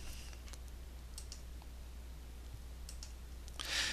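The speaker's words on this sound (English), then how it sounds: "So I'm going to click here." A few soft, isolated computer mouse clicks during AutoCAD drafting, close and quiet, over a low steady room hum.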